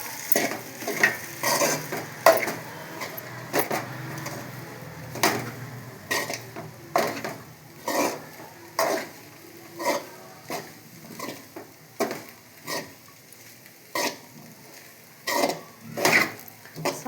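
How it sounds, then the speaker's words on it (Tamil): Onion and potato sautéing in oil in a pan, with soft sizzling under repeated rhythmic scrapes and clinks of a spoon stirring against the metal, close and fairly loud. "வெங்காயம் போட்டோன்னே அந்த உருளைக்கிழங்கு போட்டு நல்லா எண்ணெயிலே வதக்கி விடணும்."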